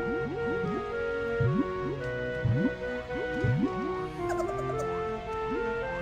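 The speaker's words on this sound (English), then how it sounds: "That's the sound of a globo." Underwater in Jolly Roger's Lagoon in Banjo-Tooie, a globo creature gives a run of short, bubbly downward-swooping calls over a sustained watery music bed, repeating every second or so at moderate loudness.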